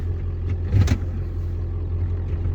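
A warmed-up truck engine idles with a steady low rumble, joined by a brief louder burst of mechanical noise near the start, close and continuous, no talking.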